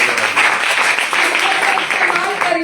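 A crowd claps together in a burst of applause at a Hindi-language talk or gathering, a steady dense patter lasting a few seconds with no break.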